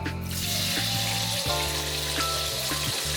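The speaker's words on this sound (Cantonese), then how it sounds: "等佢啲魚溫咧同啲豉油炸一炸先" Fish frying in hot oil with soy sauce in a pan, a steady close sizzle and crackle that holds evenly throughout with no talking.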